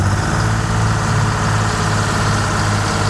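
An old Detroit diesel engine on a 65-year-old crawler runs after sitting for 24 years, a loud, steady, rough low rumble that continues without pause throughout.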